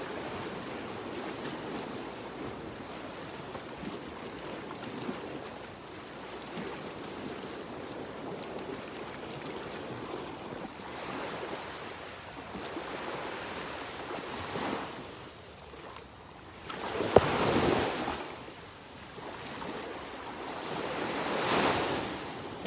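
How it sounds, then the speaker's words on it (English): Ocean waves washing onto a beach at sunset, a steady soft surf roar with wind brushing the microphone, swelling into louder breaking waves toward the end. "Hey guys, I'm at the beach right now."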